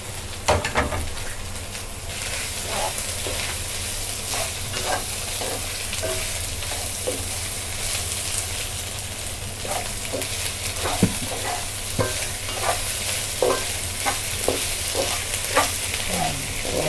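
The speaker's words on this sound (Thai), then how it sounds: "พี่ต้าก็จะใส่หมูสามชั้นค่ะ นี่นะคะ อ่าเาลงไปผัดนะคะ" Boiled pork belly stir-fried with fragrant shrimp paste in a hot pan, a constant close sizzle broken by frequent scraping and clinking of a spatula against the metal, no speech.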